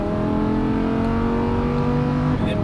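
Lamborghini Huracan LP610-4 V10 engine on a racetrack, a loud steady drone of harmonics that holds under load, then drops sharply near the end as the car upshifts.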